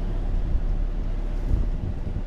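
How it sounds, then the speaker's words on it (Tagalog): Strong wind at sea on a fishing boat near Samana Bay in the Caribbean, a steady low rumbling roar of gusts buffeting the microphone, continuous and close, with no voices. "taas po ng hangin"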